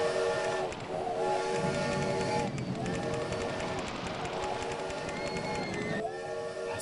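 Several roller coaster trains run continuously in OpenRCT2, a dense, steady rumble with faint tonal whine and a crowd-like wash, no talking.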